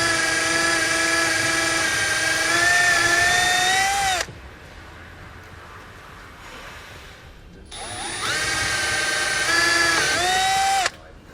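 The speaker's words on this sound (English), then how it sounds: "So I'm just going to use a step bit and take it one at a time until we get our button to fit inside." A power drill running a step bit through a hole on a 2014 Jeep Wrangler to fit a battery disconnect button: two loud, steady whining bursts of about four seconds each, split by a quieter pause.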